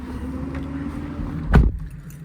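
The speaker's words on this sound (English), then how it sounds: "I'm gonna hop in the truck and take it for a drive down the cul-de-sac here." A 2019 Ford F-550 service truck with a Stellar TMAX service bed drives slowly down a cul-de-sac. A low, moderate engine rumble carries a brief louder thump near the end.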